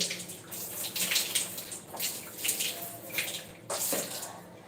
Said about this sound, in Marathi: गार पाण्याने तोंड पाय धुतले